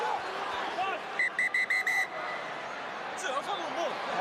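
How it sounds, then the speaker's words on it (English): A referee's whistle gives a burst of several short, piercing blasts at a Wales versus South Africa rugby match, heard over steady crowd noise and commentators talking, followed by a fainter single blast. "Whistle blown because there's a fight on halfway."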